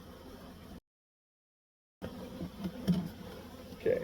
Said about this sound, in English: And here's our half cup of bees.